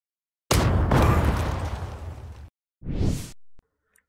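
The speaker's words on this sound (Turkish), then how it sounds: "Yapıştırın bombayı." A grenade exploding in the online shooter Zula, a loud sudden rushing blast that decays over about two seconds, followed by a second shorter whooshing burst and then silence.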